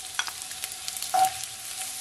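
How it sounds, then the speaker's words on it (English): Garlic and onions dropped into heated oil in a pot for Jamaican steamed cabbage, giving a soft sizzle with a few light clinks and one brief louder burst, fairly quiet and without talk. "So now that my pot and my oil is heated up, I'm gonna firstly add my garlic with my onions"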